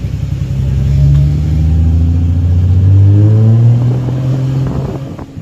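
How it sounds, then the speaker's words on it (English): Nissan 350Z on a bagged widebody build, its VQ35 engine misfiring at idle, gives a steady, loud, uneven rumble with a Subaru-like burble and a slight rise in pitch midway. No voices are present. "as you can hear, it still sounds like a Subaru"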